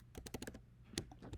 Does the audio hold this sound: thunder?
no